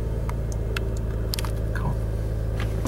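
A 1992 Acura Legend L engine idles roughly up close, a steady low rumble with uneven pulsing and a few faint clicks over it, with no talking.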